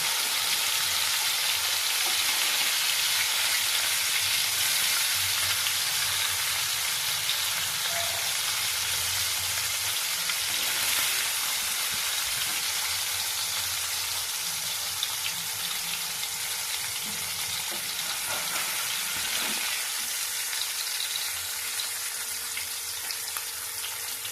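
Pomfret fish fries in oil in a wok with a steady, loud crackling sizzle that continues unbroken, with an occasional faint clink of a utensil.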